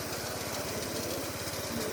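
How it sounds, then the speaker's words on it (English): A Kalinga Paddy Reaper NP120R engine runs steadily while reaping paddy, a continuous loud mechanical drone with a rapid low throbbing pulse and no pauses. "This is my father who is reaping paddy crops in this video."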